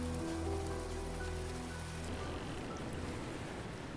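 Steady rain in a cozy video game, a dense even patter on surfaces that holds at a constant level from start to finish, with no voices over it.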